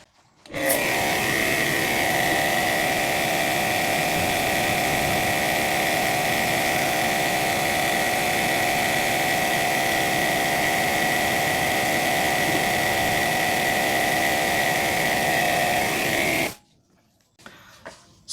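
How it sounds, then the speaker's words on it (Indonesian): A Lakoni Daytona 100M electric jet cleaner fitted with a turbo nozzle runs at a steady, loud, continuous roar for about sixteen seconds. It then cuts off abruptly into near silence. "Percobaan keempat, daya yang dibutuhkan ketika menggunakan stik turbo nozzle."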